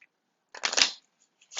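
Tarot cards being shuffled by hand, two bursts of crisp riffling close up, the first longer near the middle and a second starting at the end, with silence between.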